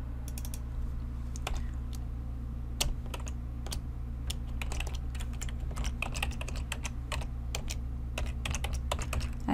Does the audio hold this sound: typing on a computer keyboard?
yes